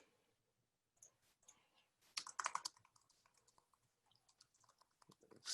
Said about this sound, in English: I'm just gonna type some gibberish